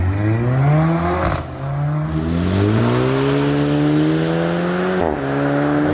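A four-cylinder two-litre engine in a Skoda Octavia RS 245 revs hard through climbing pitches, with brief breaks where the tone drops before rising again, loud and close with no talking.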